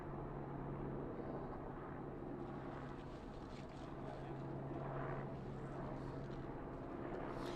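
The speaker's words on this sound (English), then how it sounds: "there is a helicopter that's been flying throughout this area right now" A police helicopter circles over the area outside Brown University in Providence, Rhode Island, a faint, steady distant rotor drone throughout, with no talk.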